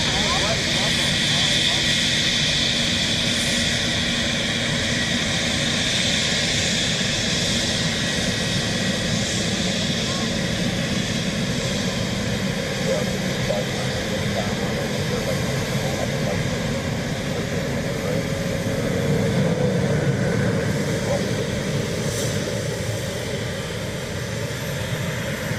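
A Challenger 350 business jet takes off from Dublin Airport, a loud, steady roar of engine noise sustained throughout, swelling slightly near the end.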